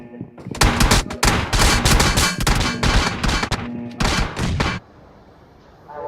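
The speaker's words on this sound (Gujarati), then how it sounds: "ચારે બાજુ કેવી ગોળીઓ ફૂટતી હતી" Rapid bursts of automatic gunfire from PUBG Mobile gameplay, loud and sustained in stuttering volleys for several seconds before cutting off into a quieter background hum.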